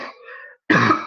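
A single harsh, close cough bursts out after a brief wheezy breath and a moment of silence.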